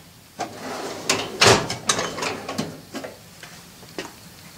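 A drawer on a machine shop tool cabinet slides open with a series of close metallic clunks and rattles, one loud knock followed by lighter ticking rattles as the contents shift.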